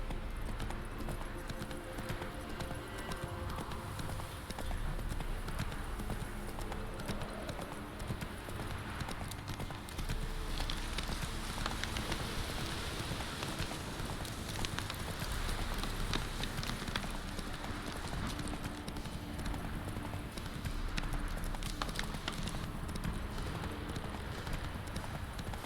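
Hooves of a horse galloping in the video game Witcher 3, a steady continuous clip-clop running throughout, loud and close over a constant ambient game backdrop, with no talk.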